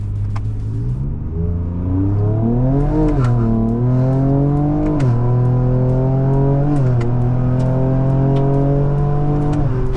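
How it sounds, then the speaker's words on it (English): A Ford 3.0L EcoBoost twin-turbo V6 car engine revs repeatedly, its pitch climbing and dropping through several rises, loud and close, with a continuous mechanical whir. "this engine rips through gears, and it's a little bit euphoric"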